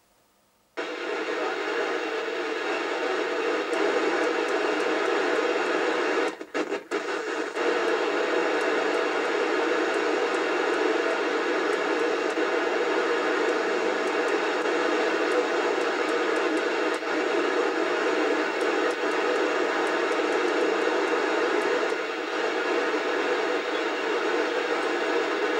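Steady, loud static hiss from a Midland 76-300 CB base station radio on the UK 27/81 band as it scans channels, continuous apart from one brief break, with no voices.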